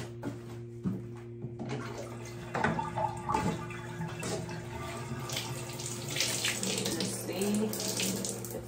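Water runs steadily from a tap into a bathtub to soak a T-shirt for tie-dyeing, a continuous splashing flow at moderate volume, with a steady mechanical hum underneath.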